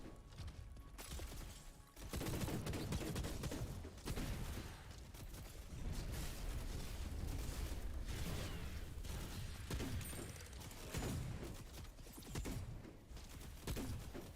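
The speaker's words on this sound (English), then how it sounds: "So I have to keep shooting him until basically" Rapid gunfire from a boss fight in the video game Wayfinder, with dense, continuous shots and mechanical clatter that stay loud and close for most of the stretch after a brief lull near the start.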